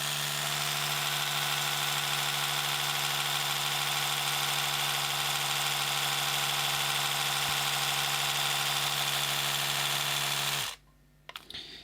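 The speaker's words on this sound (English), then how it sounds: "we've got the entry-level Oral-B Pro 600, not advertised with sound connectivity" An entry-level Oral-B Pro 600 electric toothbrush runs close up with a steady, loud motor buzz for about eleven seconds, then switches off abruptly, leaving brief faint rattles.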